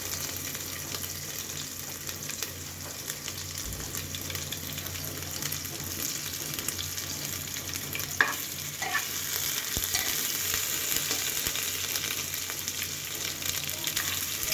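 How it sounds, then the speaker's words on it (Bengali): Ginger garlic paste frying in a pan for a chicken curry with papaya and potatoes makes a steady close sizzle under repeated stirring scrapes, with a few sharper spatters midway and the frying growing slightly louder toward the end. "এখন আমি দিয়ে দেব আদা রসুনের এই পেস্ট এটা আমি ভেজে নেবো"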